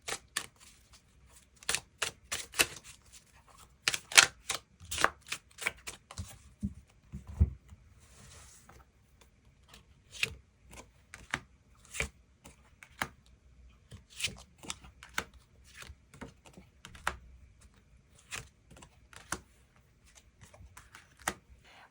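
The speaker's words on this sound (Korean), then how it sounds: "그 부분 추가 카드 뽑아보도록 하겠습니다" Tarot cards being shuffled and drawn, sharp papery snaps and flicks in irregular bursts throughout, close and fairly quiet, with no talking.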